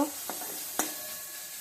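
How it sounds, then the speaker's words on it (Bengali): Soybean chunks with turmeric and a little salt hit hot oil in a pan, giving a steady low sizzle broken by two short sharp stirring scrapes, close and fairly quiet with no voices. "এখন আমি হালকা লবণে হলুদ দিয়ে তেলে ভেজে নেব"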